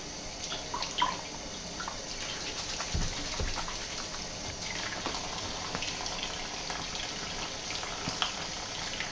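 Running tap water over yucca fibers during rinsing, a steady close splashing stream with occasional drips and knocks.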